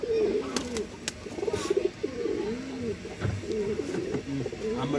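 Pigeons, some of them sick with a neck disease, coo in a repeated rolling rhythm close by. The cooing runs steadily through the clip over background noise.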